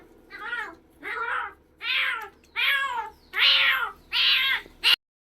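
A cat trapped inside a well meows seven times in a steady series, the calls slightly hollow and growing louder, ending abruptly on a short final cry.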